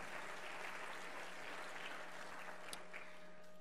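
Church congregation giving a clap offering of praise during a Sunday service, a faint, steady spread of many hands clapping with a low electrical hum running beneath.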